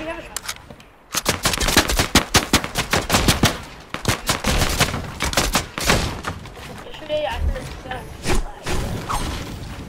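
Repeated shotgun blasts in a Fortnite match, loud sharp reports firing in rapid irregular bursts over about ten seconds with thuds and game effects, while a voice talks intermittently underneath.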